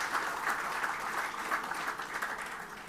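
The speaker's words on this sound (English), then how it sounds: "please give a good round of applause for our legend" An audience at a ticket launch and press conference for the 94th Battle of the Maroons applauds steadily for a few seconds, a dense, even round of clapping heard from a moderate distance.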